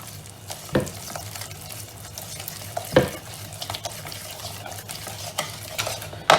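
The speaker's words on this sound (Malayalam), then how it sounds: "അത് നന്നായി മിക്സ് ചെയ്യാം." A spoon stirs rice flour and water in a pan for halwa with soft scraping swirls, punctuated by a few sharper knocks against the pan's side.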